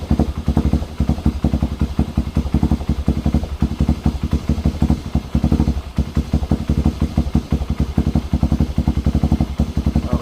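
A Motorstar Star X 175 II motorcycle engine runs steadily up close after magneto stator, CDI and ignition coil work, its fast, even firing pulses throbbing without pause and with no talking.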